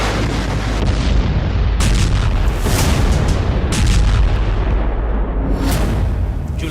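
Heavy explosions from a US bombing strike in Syria: repeated loud booms and blasts, one after another, each followed by a rumbling roar that fills the whole stretch without a pause.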